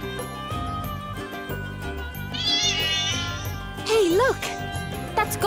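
Cat meowing in the video game Bravely Default 2, with several drawn-out, wavering meows over game music and chimes, the later cries louder and closer.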